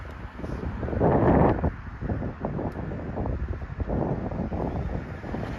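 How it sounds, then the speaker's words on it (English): Wind buffets an outdoor microphone in a smoky Canadian setting, a steady low rumbling roar with a stronger gust swelling early on, continuing unevenly throughout. "Do you guys hear the wind?"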